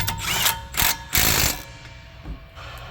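Ratchet wrench clicking as the brake caliper bracket bolts are tightened on a 2017 Chevy Traverse / GMC Acadia front brake job, a few close bursts of rapid mechanical clicks with short pauses between them.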